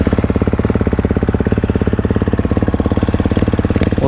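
A 250 FC motorcycle engine idles after a repair, warming up with a loud, fast, steady pulsing thump that runs evenly throughout, close by and with no talk.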